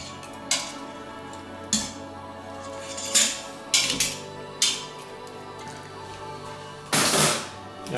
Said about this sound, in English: I'm going to remove the trivet that's in here.